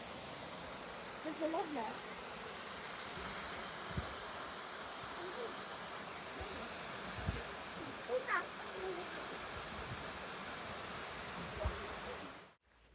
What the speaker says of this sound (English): So yeah, that was the waterfall